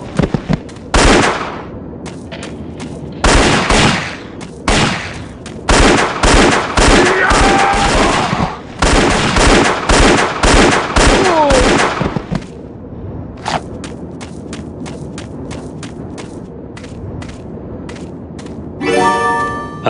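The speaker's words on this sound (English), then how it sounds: "A gun." Gunfire in the Indiana Jones and the Infernal Machine game, loud dense bursts of rapid shots in clusters over several seconds, then sparse single cracks and quieter gaps near the end.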